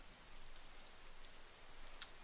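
Rain falls steadily in the survival video game DayZ, a soft, even hiss of drops with a faint tick near the end, quiet and continuous with no voices.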